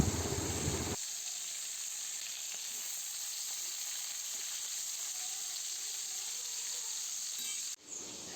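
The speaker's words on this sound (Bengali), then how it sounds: "মাছে লবণ হলুদ মাখিয়ে নিয়ে আর তেলের মধ্যে দিয়ে দিলাম। মাছটা ভাজা হতে থাক" Koi fish coated in turmeric and salt fry in hot oil with a loud, steady sizzle and hiss that carries on close and unbroken, with no talking.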